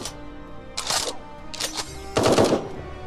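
Turret gunfire in the video game Eden Star: three short bursts of rapid, crackling shots, the last one loudest and densest, heard close with no talk.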